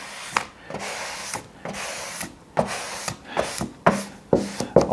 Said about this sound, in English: take the squeegee and slowly work out